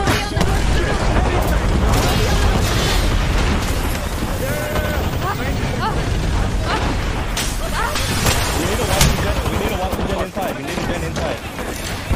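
Grenades go off during a fight in the video game Apex Legends, with loud booming blasts and crashing debris layered over a constant roar of battle, while players call out over the chaos.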